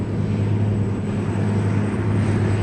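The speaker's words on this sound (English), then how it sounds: "That's a 530 horse tractor on it." A 530 horsepower tractor works a field, its engine giving a steady, loud, low droning hum with no change over a short stretch.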